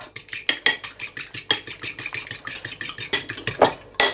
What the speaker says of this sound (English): crack that into a bowl, and we're just going to whisk it